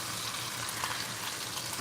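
Pork chops sear in a hot pan with a steady, dense sizzle throughout, close and moderately loud, no voices.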